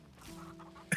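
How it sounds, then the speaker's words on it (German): Chickens in the farming game Farm Together 2 give a quiet, steady clucking murmur over low background sound, ending with a brief louder pop. "Ja, da ploppen die ganzen Hühner ja weg."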